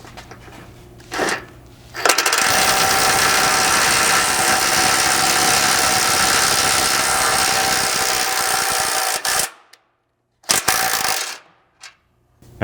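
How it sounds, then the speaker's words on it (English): An impact driver with a 3/4 socket hammers thread-cutting bolts into a Bronco frame for a rock slider install, a loud, close, continuous rattling burst of about seven seconds, then short follow-up bursts. "Now these thread cutting bolts, you'll just need a 3/4 socket, and then they can be ran in using an impact."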